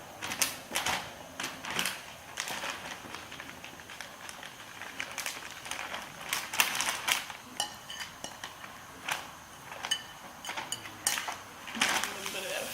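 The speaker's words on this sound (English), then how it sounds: "I've just thrown all of those vegetables in there" Chopped vegetables tumbling into a slow cooker from a bag for a chicken meal prep, a run of close clattering knocks and clinks against the pot with small irregular bursts throughout.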